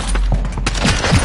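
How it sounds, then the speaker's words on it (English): Dense, rapid gunfire in Call of Duty Modern Warfare 2, a loud continuous volley of overlapping shots and booms with no pauses. "Shots fired!"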